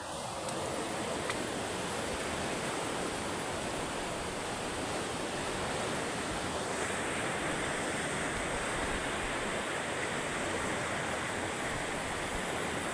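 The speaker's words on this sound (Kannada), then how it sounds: "ಇದು ನೋಡಿ ಇದು ಅಗನಾಶಿನಿ ನದಿ" Roaring flow of the flooded Aghanashini river, swollen with red monsoon water in the Western Ghats, heard from the Marigadde bridge: a dense, unbroken rushing roar, loud and steady throughout with no voices.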